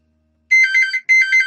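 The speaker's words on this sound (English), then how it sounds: "Every time we get down to film lately, the phone goes." A house phone rings in two electronic bursts, loud, close and warbling, with a short gap between them and no one talking.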